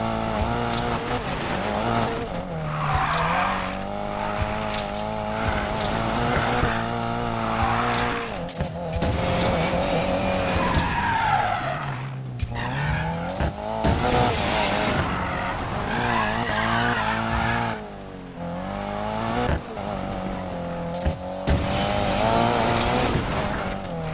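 Car drifting in the Need for Speed Payback video game, a sustained loud tire squeal and skid over a roaring engine that rises and falls through long slides, with a brief voice now and then.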